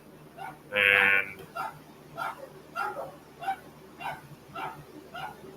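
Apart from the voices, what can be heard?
dogs barking outside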